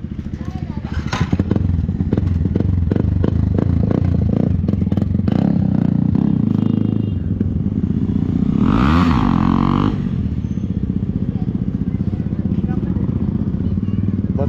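A KTM Adventure motorcycle fitted with a Yoshimura R77 full system exhaust runs loud and close, its engine droning and revving with a rising-falling pass in the middle before settling back to a steady throaty roar.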